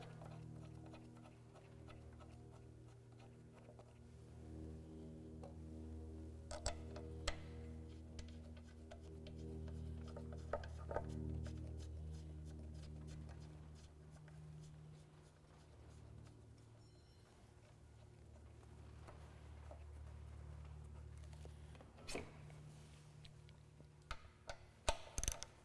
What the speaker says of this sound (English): Snug those up with our wrench